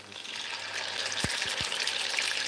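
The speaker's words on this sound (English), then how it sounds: "we just want to seal the fish" Fish sears in a hot pot for a Creole stew, giving a steady, loud sizzle with a few low thumps from the pan partway through and no talking.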